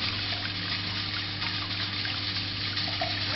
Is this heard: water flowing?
yes